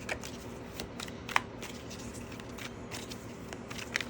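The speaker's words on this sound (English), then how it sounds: "So I'm going to go ahead and pull some of these oracle cards now." Oracle cards shuffled and pulled from a deck, giving soft, close riffling and sliding flicks with a few sharper card snaps, fairly quiet throughout.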